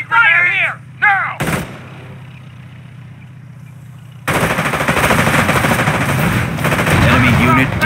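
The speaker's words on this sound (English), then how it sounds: "Taking small arms fire here!" Small arms and artillery fire sound in the Company of Heroes St. Lô battle. After a few brief bursts and a quiet stretch, heavy machine-gun chatter and explosions break out loud and sustained, with shouted voices mixed in.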